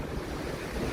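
Rough sea with waves at least two metres high batters an MSC cruise ship at night on the way to Marseille, a continuous loud rushing wash with wind noise and no voices.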